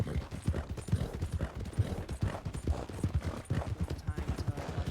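Horses galloping with rapid, busy clip-clop of hooves throughout, loud and close, mixed with dense low thumping and some background noise.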